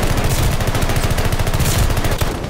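Continuous rapid automatic fire from the Atomic Automaton gun in a video game, loud and close, a steady rattling stream of shots for nearly the whole clip, with no talking.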